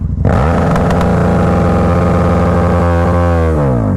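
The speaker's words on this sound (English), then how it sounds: "Full throttle again. I'm going to ease the clutch out very slowly and watch the bike go." Motorcycle engine held at full throttle while the clutch is slowly eased out, a loud steady roar with rising and falling harmonics that drops off near the end, no talking.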